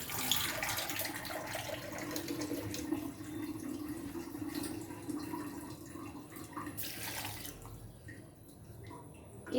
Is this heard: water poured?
yes